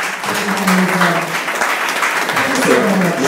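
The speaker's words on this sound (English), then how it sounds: "So again, clap yourselves" Audience applause at a motivational talk, a dense steady clatter of many hands clapping throughout, fairly loud and close with no pauses.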